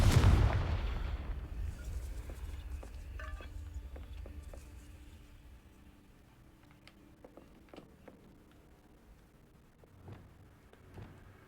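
Fiery Confringo spell blast in a Harry Potter–style video game, a loud burst at the start that rumbles and decays over several seconds, followed by scattered faint crackles and small pops.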